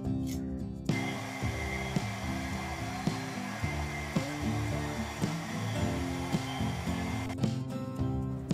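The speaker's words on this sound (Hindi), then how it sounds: "जो साइड के वॉलपेपर थे वो तो इजीली निकल गए हेयर ड्रायर से गर्म कर करके" A hair dryer blows steadily at close range to heat wallpaper and loosen it for peeling, a loud continuous whooshing drone with a few soft clicks and knocks, briefly cutting out near the start and again near the end.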